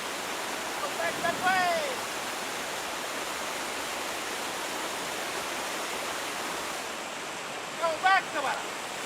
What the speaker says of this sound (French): la violence du courant qui agite la King River